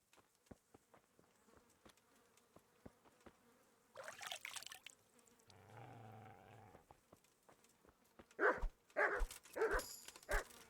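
Dog barks from the medieval role-playing game Kingdom Come: Deliverance ring out as a cluster of sharp, loud yelps near the end, after quieter game ambience with buzzing insects and a brief rustling scuffle.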